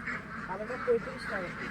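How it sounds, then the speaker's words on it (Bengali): Belgian ducks quack a few times in the background on a duck farm, mixed with a steady low noise and faint voices. "এখানে টোটাল কতটা হাঁস আছে"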